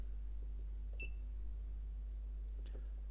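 A single short electronic beep from a FeelTech FY6900 waveform generator's button sounds near the start, followed by a faint click, over a steady low hum.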